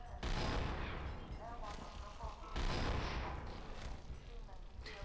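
Gunfire in the Half-Life 2 SMOD Redux video game comes as two heavy bursts of booming shots with rumbling echoes, moderately loud and close, filling the whole stretch.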